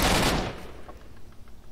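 An AK rifle fires in a quick burst at supply crates inside the X-18 laboratory in S.T.A.L.K.E.R.: Shadow of Chernobyl, a loud, dense crack up front that trails off into a reverberant echo and faint rattling debris.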